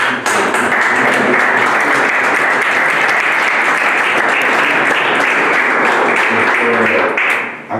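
Loud, dense audience applause at a talk on archaeology, sustained for nearly eight seconds before tapering off at the end.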